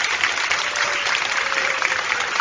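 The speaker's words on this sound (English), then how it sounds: "please give all those winners from this year and past a great big round of applause." Crowd applause at a county fair swine showmanship event, a dense, steady round of clapping from many hands filling the space evenly, with no talking.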